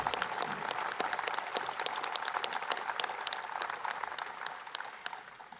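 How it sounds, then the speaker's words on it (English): An audience at a White House celebration with President Biden and Vice President Harris breaks into applause, a fairly faint, even patter of many hands clapping that holds steady and tapers slightly at the end. "And that deserves applause."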